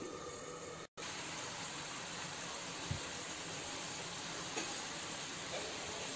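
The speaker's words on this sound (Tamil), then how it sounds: "இப்போ பார்த்தீங்கன்னா நல்லா கொதிக்குது" Steady bubbling and hissing of gravy for pomfret polichathu boiling in a pan, continuous and moderately loud, with a brief dropout near the start.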